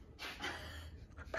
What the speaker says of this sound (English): All I hear is heavy breathing.